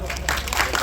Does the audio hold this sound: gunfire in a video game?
no